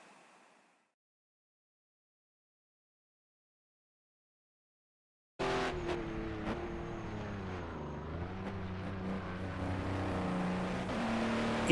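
Race car engine in a racing video game charging too fast into a corner, heard after several seconds of silence as a loud, close engine note that drops in pitch under braking and then climbs again.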